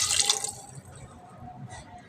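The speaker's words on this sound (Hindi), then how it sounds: "अब ये सामान हम पतीली में डाल देंगे और अब इसमें डालेंगे हम 1 गिलास पानी।" A glass of water poured into a cooking pot of onions and tomatoes in a kitchen, a brief splashing rush at the start that fades to quiet dripping and faint trickles, close and without speech.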